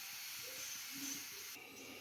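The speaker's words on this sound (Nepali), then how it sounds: "साथीहरू, उम्लिँदैछ।" Water coming to a boil in a pot on a gas stove, a quiet continuous hiss with faint low bubbling underneath.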